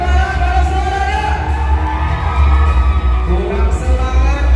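A large crowd of supporters cheers and shouts continuously at the Agam Inong Aceh Barat 2024 pageant night, a loud, sustained roar with whoops and a deep booming undertone throughout.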